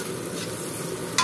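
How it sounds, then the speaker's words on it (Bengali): Spices for cauliflower greens fry in a pan with a steady, dense close sizzle that barely changes, ending in a brief sharper scrape of a stirring spoon. "এখন মশলাটাকে একটু কষিয়ে নেব"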